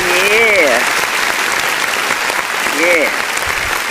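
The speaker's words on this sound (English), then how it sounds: "Let's give it a round of applause" Loud, steady applause from an audience fills the moment, with a couple of short rising whistle-like tones cutting through the clapping.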